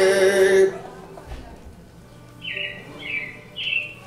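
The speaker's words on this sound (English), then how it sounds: "it looks like the Robins are getting ready to celebrate Valentine's Day today" Robins chirp in a Disney animatronic stage show: a few short, bright tweets sound after a brief burst of music, moderately loud and close, with short gaps between them.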